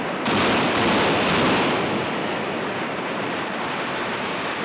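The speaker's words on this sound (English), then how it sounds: "Citizens also helped approve the solution, a second strategic detonation" A loud, broad roaring blast from a strategic detonation at the Fernald site, with a few sharp bursts early on, then a sustained rushing rumble that slowly fades.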